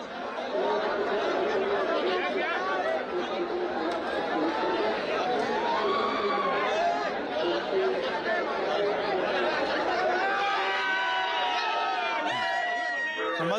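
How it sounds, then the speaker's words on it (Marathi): Party workers in Chhatrapati Sambhajinagar celebrate an election victory, throwing gulal amid a dense, steady crowd of chatter and shouting with bits of laughter, loud and continuous throughout. "विजयानंतर कार्यकर्त्यांनी जल्लोष केलेला आहे."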